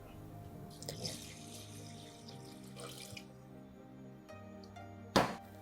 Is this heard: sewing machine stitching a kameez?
no